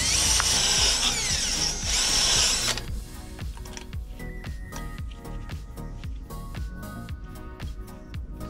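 A power tool grinds rust off brake parts during a mobile mechanic's brake job, first as a loud steady whine, then as a rapid series of sharp rattling, ratcheting bursts close by.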